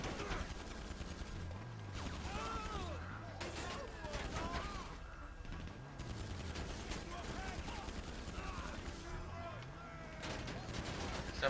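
Shotgun blasts and other gunfire ring out in the video game GTA 5, a steady barrage of repeated shots and rumbling booms running through the whole stretch with a voice talking over parts of it.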